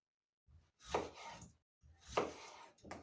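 A knife cuts raw potatoes into long wedges, two firm slicing strokes ending in board knocks, then the start of a third, close and clear against silence.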